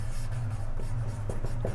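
Pen writing on paper during a maths lesson, faint short scratchy strokes in a few separate bursts over a steady low room hum, with no talk.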